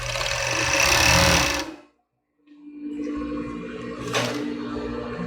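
A sewing machine stitches a padded bra cup, running in a loud close burst, stopping for a short silence, then resuming with a steady whir.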